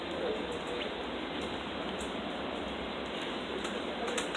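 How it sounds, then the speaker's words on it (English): Rain falls by the Long Island Rail Road Main Line tracks, a steady, even hiss of drops with faint scattered ticks, continuous throughout and free of talk. "But we do have some rain falling"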